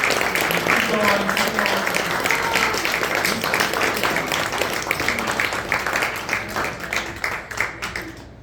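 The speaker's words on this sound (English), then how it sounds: "Donnie, keep clapping until he gets here." A story slam audience claps steadily as the next storyteller makes his way to the stage, with the dense applause running the whole time and the emcee's voice coming through over it.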